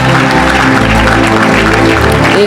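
A church congregation applauds for Jesus in a dense, steady burst of clapping that carries on without a break.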